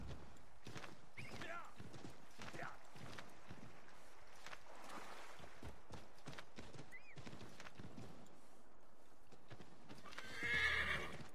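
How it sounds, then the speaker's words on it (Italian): In the video game Assassin's Creed III, a horse whinnies and its hooves clip-clop beneath continuous talk and game ambience, with a brief louder burst near the end. "Un cavallo!"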